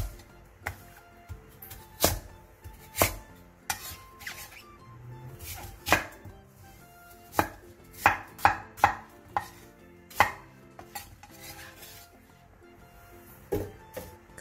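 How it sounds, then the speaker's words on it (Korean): A knife chops onion, radish, pear and apple into large chunks on a board, sharp irregular thuds in quick bursts with short pauses, close and clear with no talk. "양파 1개 반, 무 2cm 두께 한 토막, 배 2분의 1개, 사과 1개를 갈기 좋은 크기로 큼직하게 잘라주세요."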